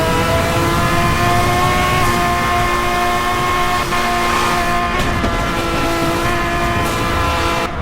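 A car in Need for Speed Hot Pursuit (2010) braking, accelerating and drifting, its engine a steady, loud, continuous drone with shifting tones and no talk.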